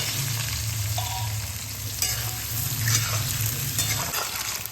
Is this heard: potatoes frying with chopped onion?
yes